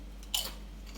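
A single sharp crunchy bite into a thin air-fried potato crisp, one brief close crackle in an otherwise quiet moment.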